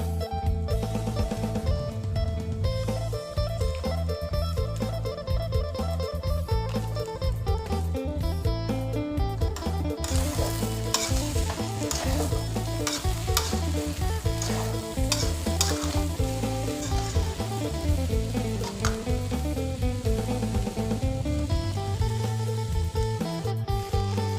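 Stir-frying with chili flakes in a pan makes a loud, continuous sizzle that grows brighter partway through, layered over steady background music.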